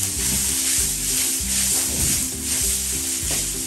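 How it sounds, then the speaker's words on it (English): Parboiled rice stirred and frying in a hot pan for mixt fried rice, a loud steady sizzle broken by repeated scraping strokes of the spoon roughly every half second, close up with no talking. "let me give it a good stir before I add the soy sauce"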